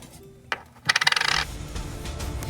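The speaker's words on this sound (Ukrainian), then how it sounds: "У мене монетка канадська." A Canadian coin dropped onto a hard surface, a sharp first tap followed by a rapid run of ringing, bouncing and spinning clinks that slows and settles; no speech.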